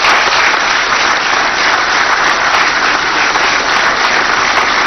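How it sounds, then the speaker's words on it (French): Loud, dense applause from a large audience fills a formal parliamentary ceremony honouring Chad's president, steady and unbroken throughout with no talk over it. "vous prie d'applaudir chaleureusement"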